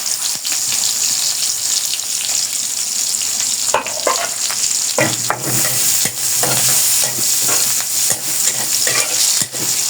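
Onions sizzle and fry in a pan for a fish and cauliflower curry, with a steady loud hiss broken by repeated scraping stirs of a spoon; no voices.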